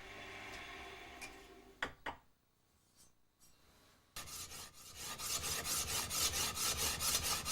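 A Japanese sword blade being polished on a stone, close rhythmic scraping strokes that pause briefly, then return louder and faster in a steady back-and-forth rubbing pattern.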